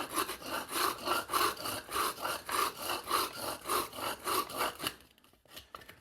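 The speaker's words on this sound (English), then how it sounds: "That's cutting though, I can hear that now." A hollow copper drill cuts with sand as an abrasive, giving a steady rhythmic grinding rasp that pulses about twice a second, loud and close, then drops off abruptly near the end.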